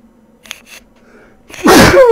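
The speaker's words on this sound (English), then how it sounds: "Excuse me, I'm going to sneeze." A single loud, sharp human sneeze bursts out close to the microphone after a short quiet pause, with a faint inhale beforehand.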